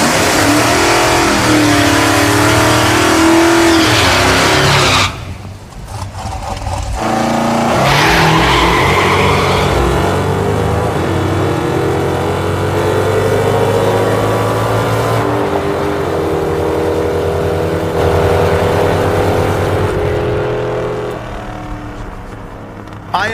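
Hemi-powered drag car launching hard on nitrous with its tires spinning, a loud sustained engine roar that drops briefly, then builds again with whining, scrubbing tire noise, heard close and continuous.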